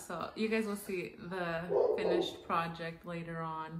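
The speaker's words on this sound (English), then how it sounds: "Sorry if you can hear my dog barking." A pet dog barks and yips indoors at home, partly masked by a person talking steadily over it at close range.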